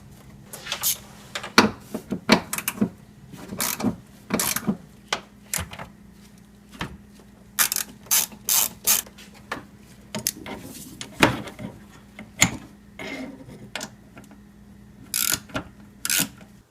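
A ratchet loosens the 10 mm fasteners on a Toyota 2GR-FE wiper motor assembly, giving short, irregular bursts of quick clicking with quiet gaps between them, close by.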